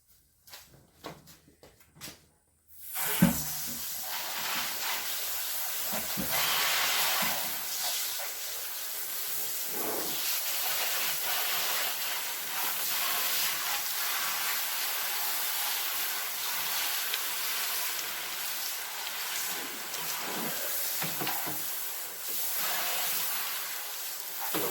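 Steady hissing spray of water hosing down a freshly plucked and cleaned chicken, close and loud, running continuously for over twenty seconds after a few brief knocks at the start.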